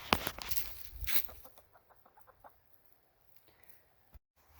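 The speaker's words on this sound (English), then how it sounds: "that was a whole ordeal trying to get that chicken out of the garden" A chicken in a garden clucks in a quick run of soft, short clucks that fade out, preceded by louder rustling and scuffling close by.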